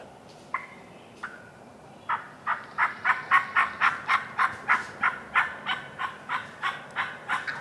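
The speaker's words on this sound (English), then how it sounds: "He's gobbling, spitting, and drumming." A wild turkey gobbles: a couple of isolated calls, then a long rapid run of rhythmic, cackling gobbles, fairly close and loud over a quiet outdoor background.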